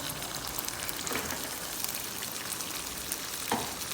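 Cabbage, potatoes and peas go into a pan of fried beef, and a steady close sizzle of frying runs throughout with a few small clacks and no talking.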